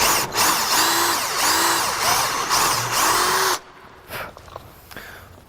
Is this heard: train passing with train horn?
no